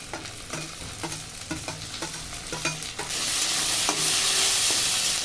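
Chopped green chillies and tomato being fried in a pan: a run of rhythmic scraping stirs over a low sizzle, then a sudden louder, sustained hiss as the fresh pieces hit the hot oil, close and alone.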